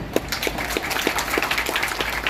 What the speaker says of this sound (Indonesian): tepuk tangan yang meriah untuk anak-anak kita